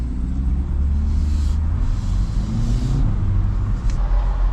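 A C8 car engine rumbles low and steady close by, a deep continuous drone with slight swells in level over a few seconds, nothing else prominent.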